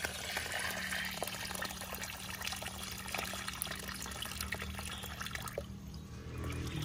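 Water poured from a small container into a large planting hole dug in riverside soil, a steady broadband liquid wash that holds level throughout, with no talking.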